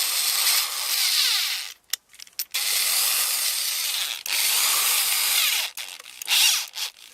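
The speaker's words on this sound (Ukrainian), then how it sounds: "Зараз я закручу три шурупи." A Zenit ZSh 550 corded screwdriver drives small screws in loud whirring bursts, stopping briefly several times between runs, close by with no speech.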